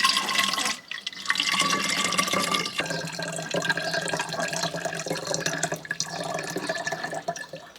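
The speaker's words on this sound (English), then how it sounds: "I filtered the garlic water and put it into a spray bottle." Garlic water being filtered and poured into a spray bottle, with trickling, splashing liquid that breaks off briefly and resumes in uneven pours, close by.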